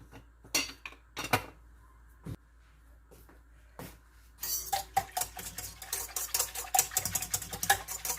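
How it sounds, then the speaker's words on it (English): Bread dough for a Greek horiatiko loaf being mixed in a bowl: sharp clinks and knocks of a utensil against the bowl, sparse at first and then busier and louder in rapid irregular strokes. "we're going to give it a good mix"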